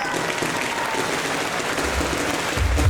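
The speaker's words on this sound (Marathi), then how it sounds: "जोरदार टाळ्या" Loud, dense applause from a crowd at an opening ceremony, steady throughout with a swell near the end.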